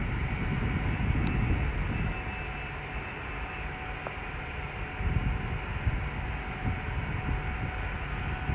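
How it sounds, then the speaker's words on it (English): A London Northwestern Railway passenger train pulls out of Stafford station on the West Coast Main Line with a steady, broad rumble of engines and wheels that holds at a moderate distance throughout, without any voices. "Now departing is the 14:39 London Northwestern Railway service from Birmingham New Street to Liverpool Lime Street."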